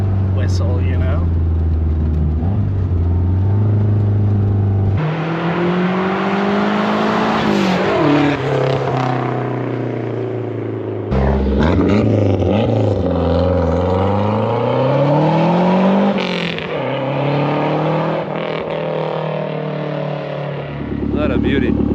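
Lancia Delta HF Integrale engine revving close by with a faint turbo whistle, loud rises and falls in pitch across several pulls with a steady mechanical drone between them, and a voice talking over it at times.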